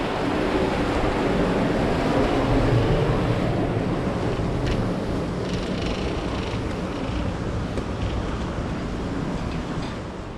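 Loud, steady rush of water pouring continuously, a broad roaring wash that fills the whole stretch without letup.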